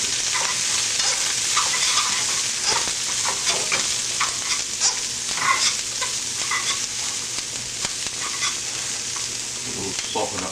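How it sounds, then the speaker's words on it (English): Onion fries in a little oil, a continuous crackling sizzle with frequent small spatters and stirring ticks, close and fairly loud for the whole stretch. "little oil. Just fry the onion first."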